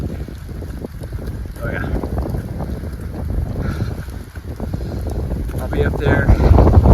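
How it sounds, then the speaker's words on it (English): Strong wind buffets the microphone on a mountain trail in the Cheaha Wilderness, a loud, rumbling roar throughout with gusts swelling near the end, as someone speaks briefly over it. "Holy wind!"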